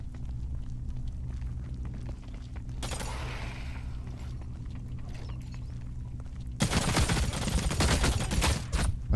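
Video game gunfire in The Cycle: Frontier comes as rapid dense bursts, a short volley early and a louder sustained rattle near the end over a low mechanical drone, with no talking.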